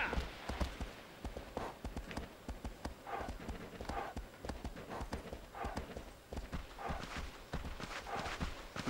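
A horse ridden across open ground in Shadow of the Colossus, its hooves clip-clopping in a steady, rapid galloping rhythm, close and clear throughout with a faint background bed.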